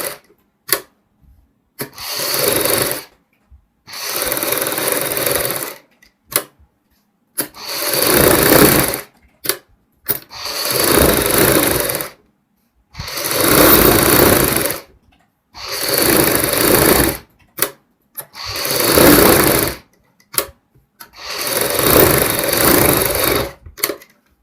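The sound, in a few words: sewing machine stitching baby frock seams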